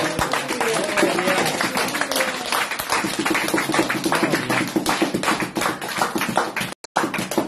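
A church congregation at a pastor's missionary visit in Rossano, Calabria claps loudly and continuously, a close, dense roar of hands with rhythmic taps and faint voices underneath, breaking off briefly near the end.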